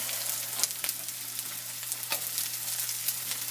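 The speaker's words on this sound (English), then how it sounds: "So we got our bacon rendering. I'm going to go ahead and add some onions" Bacon and onions fry together in a pan, giving a steady close sizzle with scattered sharper crackles and pops throughout, no voices.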